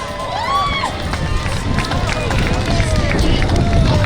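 Crowd noise along the route of a holiday parade in Carpinteria, a steady loud roar of cheering and babble with whistles rising over it, close and continuous throughout.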